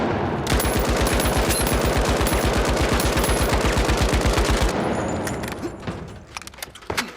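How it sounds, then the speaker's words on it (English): The Lewis gun in the video game The Finals fires one long, rapid, steady burst of evenly spaced shots, loud and close, then stops, leaving a few scattered clicks and handling sounds. "What I've found best with the Lewis gun is just do like a 10-round burst."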